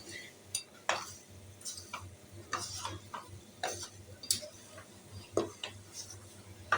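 Semolina roasting in a pan while a spoon stirs it, giving repeated sharp metallic clinks and scrapes against the pan over a faint low sizzle, close and irregular.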